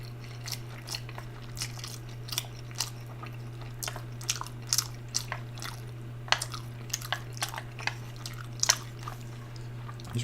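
Close, quiet chewing and biting of dim sum with shrimp filling, with soft wet crunches and squishes that repeat at irregular intervals over a steady low hum, and no talking.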